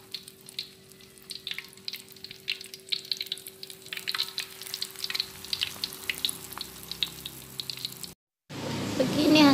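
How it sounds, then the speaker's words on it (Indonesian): Mini martabak filled with Eko noodles and wrapped in lumpia skin deep-frying in hot oil, a steady crackling sizzle that runs for several seconds before a brief gap and a louder burst of frying. "Sekarang kita panaskan minyak, lalu kita goreng. Goreng sampai berwarna kuning kecoklatan."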